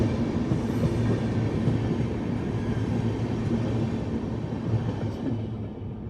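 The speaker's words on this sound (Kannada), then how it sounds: "ಆ ಕಡೆಯಿಂದ ಇನ್ನೊಂದು ಟ್ರೈನ್ ಬಂತು ನೋಡ್ರಿ" Another train arrives on a nearby track, a steady low rumble of rolling wagons with faint wheel clatter, holding even and fading slightly toward the end.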